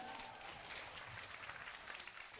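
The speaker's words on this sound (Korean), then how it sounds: "큰 박수 드리고 싶네요, 정말." Audience applause at a job-seeking talk show, a faint, steady patter of many hands clapping in a hall, heard at low level without talk over it.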